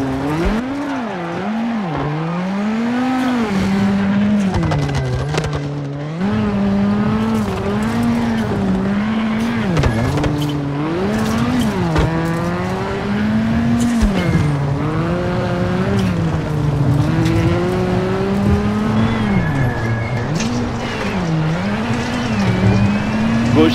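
Toyota Yaris rally car tearing through a Deutschland stage in WRC7, engine loud and close, revs climbing and dropping sharply through gear changes and corners with brief tire noise, under a co-driver's pace-note calls.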